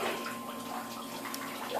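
Steady trickling and splashing as water runs out of drip tubing in a cellar aquaponic system, close and continuous, with a low mechanical hum beneath and no voices.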